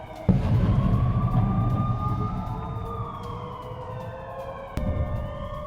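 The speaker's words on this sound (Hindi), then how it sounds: "धमाकों की आवाज सुनाई दे रही है और एयर रेड सायरन भी बजते हुए दिखाई दे रहे हैं" Air raid sirens wail over a residential area of Belgorod during an attack, long sustained rising and falling tones sounding loud and steady, with a sharp thump near the start and another burst toward the end.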